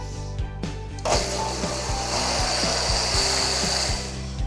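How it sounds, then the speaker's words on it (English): Kitchen blender whirring through overnight oats with peanut butter and a pinch of salt, starting abruptly after a few clicks and holding a loud, steady buzzing drone with a pulsing low rhythm. "And at this stage, I want to blend."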